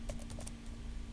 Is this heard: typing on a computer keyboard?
yes